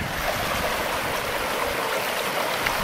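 A glacier-fed creek rushes steadily near a mountain trail, a loud, close, unbroken wash of flowing water with no voices.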